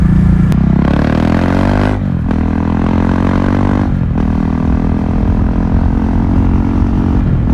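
A KTM 390 Duke motorcycle with no exhaust and a lean fuel mixture revs hard, climbing and dropping through loud, close throttle blips with crackling pops between them, alone with no voices.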